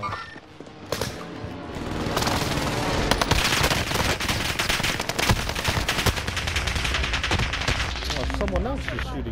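Dense rapid gunfire from Call of Duty: Modern Warfare, loud automatic bursts and booms running nearly continuously, with players talking over the shooting.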